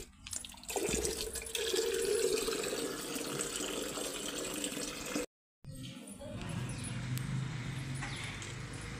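Water pours steadily into potted plants at home, a continuous splashing rush that cuts out briefly, then resumes with a softer trickle and faint background sounds.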